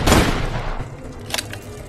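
Gunfire at a firing range in a mixed reality video game: a loud burst of rapid shots up front, then scattered lighter pops and impacts trailing off.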